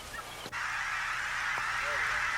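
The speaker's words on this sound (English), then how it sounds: "The Refuge's greatest success was bringing back the endangered Aleutian Canada goose." A few faint honks from an Aleutian Canada goose, an endangered subspecies on Alaska's Izembek refuge, rise briefly over a steady windy hiss, distant and sparse.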